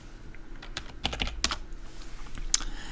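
Quick bursts of typing on a computer keyboard, a handful of crisp key clicks in uneven clusters, close and fairly quiet with no voice.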